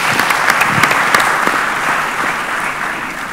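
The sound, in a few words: audience applause for speakers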